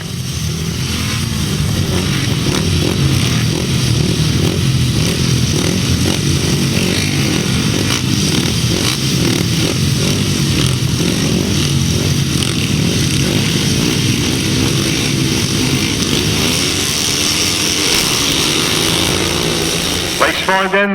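350cc grasstrack motorcycles racing in a heat at the Bewdley Bonanza, a loud continuous engine roar with rising and falling revs throughout, close and dense, with a commentator's voice mixed in.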